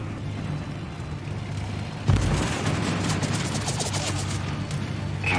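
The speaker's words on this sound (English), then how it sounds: "Concentrate fire on the enemy warship." Warship guns fire in World of Warships, with a deep boom cutting in midway over steady low rumbling battle ambience, followed by a continuing roar and scattered crackles.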